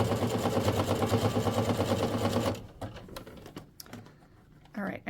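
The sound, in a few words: sewing machine stitching ric rac onto quilt binding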